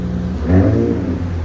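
A 2025 RAM 1500 pickup with a 3.0L twin-turbo Hurricane inline-six and straight pipes revs once, a loud close rise and fall of raspy engine tone from steady idle.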